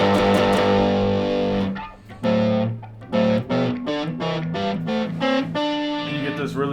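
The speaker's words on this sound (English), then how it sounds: "you turn that slightly down, and then you blend in disgusting distortion" Gonculator guitar pedal with heavy distortion blended in, producing a buzzy, warbling alien tone over several choppy notes and short bursts, loud and close, with a brief dip partway through.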